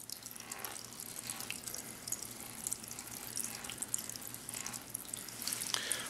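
Water trickles steadily through a meandering channel on a stream table model, a continuous soft wash of flow with faint splashy detail and no talk over it.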